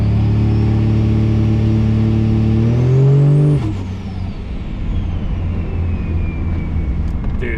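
A 1000HP Cummins diesel truck roars loud and close under hard acceleration, its engine note climbing steadily, then a sharp turbo blow-off whoosh cuts in as the revs drop, followed by a lower rumbling idle and a fading whine.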